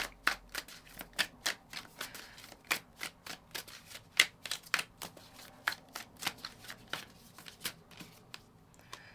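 Oracle cards being shuffled by hand, a close, fairly quiet series of quick papery riffles and taps in an irregular rhythm, with no talking.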